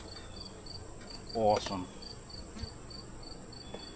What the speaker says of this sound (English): The bees are very calm